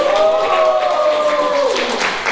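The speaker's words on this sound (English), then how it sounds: "Everyone, please give him a round of applause." Audience applause at a Toastmasters-style club meeting, a steady wash of clapping from a small crowd with a sustained tonal hum running beneath it.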